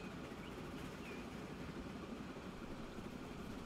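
Trains in Transport Fever 2 roll along a rail line as a steady, soft rumble with faint clickety-clack and no voices.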